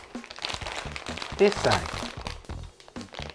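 A plastic instant ramen package crinkles and crackles in short bursts as it is handled, opened and cut up close, mostly under a person talking.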